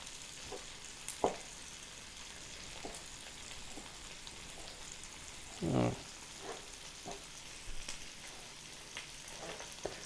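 Gumbo roux browning in a Hexclad pan, with a steady low sizzle and frying hiss and occasional louder pops and stirring scrapes, close and alone without talk.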